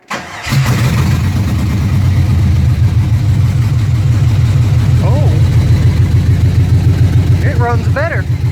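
A 1979 GMC C15 truck engine with a newly welded exhaust idles loudly and steadily with a deep, even rumble, a few brief higher chirps popping up over it.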